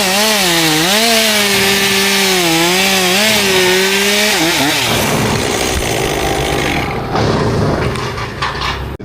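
A chainsaw cuts a cherry tree branch up close, running loud and steady. The engine pitch wavers as it bites into the wood, then drops into a rough, noisy cutting roar.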